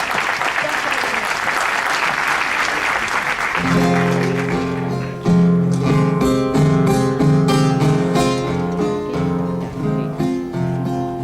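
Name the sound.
audience applause for Alfredo Arévalo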